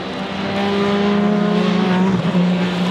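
Ferrari race cars passing at the 2023 24 Hours of Le Mans: a loud, high engine note swells, then drops in pitch as a car goes by close, with another car following.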